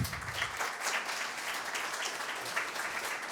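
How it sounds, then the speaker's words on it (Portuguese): Steady applause from a crowd, a continuous patter of clapping heard from a moderate distance with no voices over it. "uma calorosa salva de palmas à mesa aqui"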